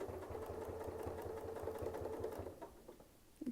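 A sewing machine stitches while quilting, a quiet steady mechanical whir with a fast regular clatter that runs for a few seconds and then stops.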